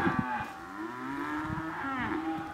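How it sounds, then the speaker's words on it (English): Several cattle moo and bawl in long, wavering calls that overlap one another, loud and near, with no speech. "Mooing and bawling and"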